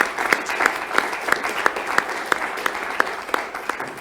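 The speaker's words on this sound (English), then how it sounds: "if we could just start with a round of applause for our panel so far" Steady applause from an audience for a panel discussion, dense clapping with a few sharper claps standing out, continuous throughout.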